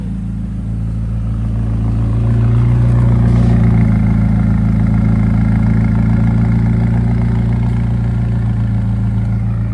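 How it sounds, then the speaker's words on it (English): A 2017 McLaren 570GT sports car engine idles loudly and steadily with a deep low rumble and a slight swell in level, running continuously without any voices. "have a listen to the car running"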